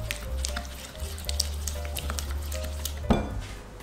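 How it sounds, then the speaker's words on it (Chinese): Pastry dough being mixed in a bowl after adding an egg yolk, a continuous soft scraping and stirring with light clinks of utensil against the bowl, steady and close, with one sharper knock near the end. "把材料混合均匀。"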